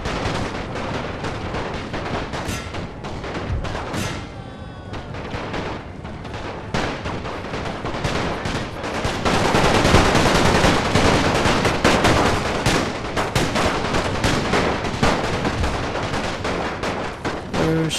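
Dense, continuous gunfire and rifle volleys crackle through a World War I video game battle, with overlapping shots and bursts sustained and loud throughout, occasional heavier booms mixed in.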